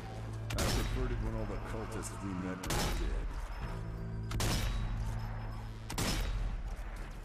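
Repeated bursts of gunfire from the zombie shooter game Zombie Army 4: Dead War, with three loud volleys spaced a couple of seconds apart over a steady background hum of game music.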